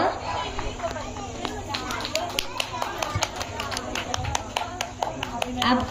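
Audience at a Bhagavad Gita stage play claps steadily for several seconds, scattered crisp hand claps over a low murmur of the hall.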